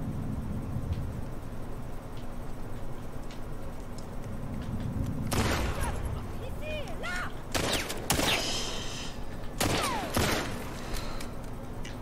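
Game gunfire from The Last of Us Part II sounds over a steady low rumble, with several sharp clustered shots coming in bursts in the latter half, and brief talk in between.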